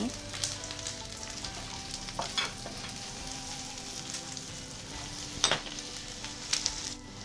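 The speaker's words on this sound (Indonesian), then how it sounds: "Bawang putih, bawang merah dan jahe tumis harum" Garlic, shallots and ginger sautéing with dried shrimp in a pan, a quiet, steady sizzle with occasional scrapes and clicks of a utensil stirring.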